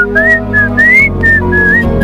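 A person whistles a bright, wavering tune in several short phrases over a low, steady background hum; the whistling stays close and clear throughout.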